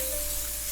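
Food searing in a hot pan over high heat just after being flipped, a steady broadband sizzle and hiss holding at an even level throughout, close and with no talk over it.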